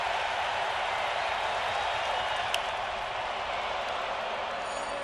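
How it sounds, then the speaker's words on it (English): A baseball stadium crowd at a Yankees versus Blue Jays game roars loudly, a broad sustained wash of cheering and applause that holds steady for the whole stretch with no clear breaks. "Now this crowd getting loud"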